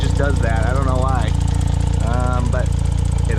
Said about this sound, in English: The little loud clicking noise you hear now is that ISC valve.